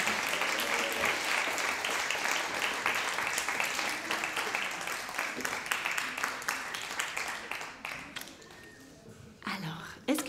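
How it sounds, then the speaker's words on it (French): An audience at a prize ceremony for a multilingual kamishibai contest applauds children on stage, loud and dense at first, then thinning into scattered claps before a voice speaks at the end. "On peut les applaudir très fort."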